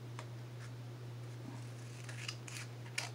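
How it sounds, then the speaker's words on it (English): Scissors trim cardstock for a handmade Christmas card in a few faint, quiet snips spread across a near-silent room, the last cut slightly sharper. "Let me trim this off a little bit."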